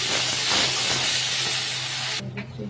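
Sliced onion hits hot oil already cooking with crushed garlic paste, giving a loud, steady, close sizzling hiss that runs without a break and then drops off sharply near the end.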